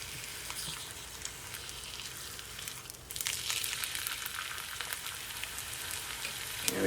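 A flipped egg fries in a pan with a steady sizzle that jumps louder and crackles more brightly partway through, staying close and continuous without speech.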